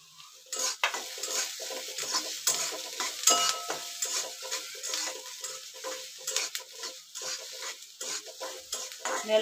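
Ginger, garlic and curry leaves stirred into frying onion in a pan, a steady crackling sizzle broken by repeated scraping stirs and light clinks of a spoon against the pot, close and fairly quiet with no talk.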